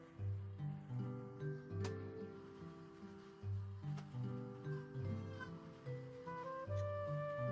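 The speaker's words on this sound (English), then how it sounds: "Oh my god, it's a cat with a fish." A cat meows in the Kingdom Hearts 2 area of a VR video game, with repeated short mews in a steady rhythm over background game music, fairly soft.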